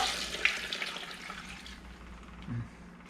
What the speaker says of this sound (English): And I'm going to add 4 cups of water.